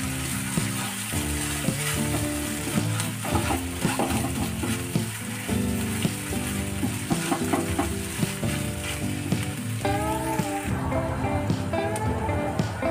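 Egg bhurji with turmeric and salt frying in a pan, a dense continuous sizzle under steady stirring and scraping, loud and close throughout with no pauses.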